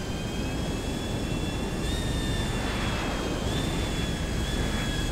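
A fixed-wing airplane engine in GTA Online roars steadily and loudly throughout, a constant jet-like drone with a whining tone that rises slightly midway, and no talking.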